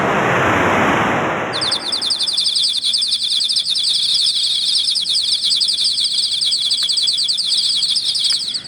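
Birds, among them ibis, cormorants and little egrets, chirp in a dense high twittering chorus after a rushing whoosh like wind or wings, continuous and fairly close with no talking.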